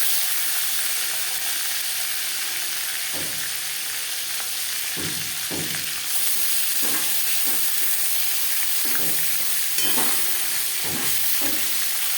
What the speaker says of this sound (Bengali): মাথাটা একটু তেলের সাথে নাড়াচাড়া করে নিলাম।